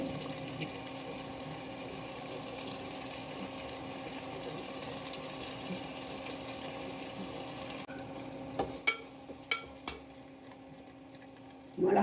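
Ginger and garlic for mutton curry sizzle and crackle steadily in hot oil before the sound drops away, leaving a few sharp knocks near the end.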